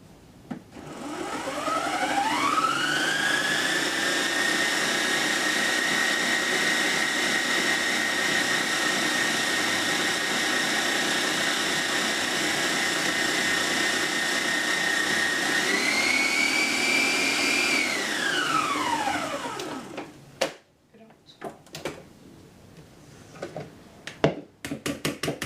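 Electric mixer beating cake batter for a Brazilian bem casado cake, spinning up to a steady whirring hum, holding for about fifteen seconds, then rising briefly before winding down to a stop, followed by faint clatter.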